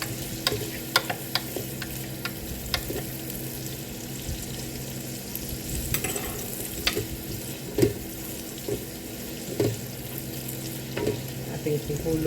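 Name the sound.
egg frying in a pan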